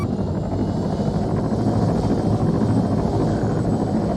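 A helicopter in the video game Arma 3 flies with a constant loud rotor and engine drone, steady throughout with no voices.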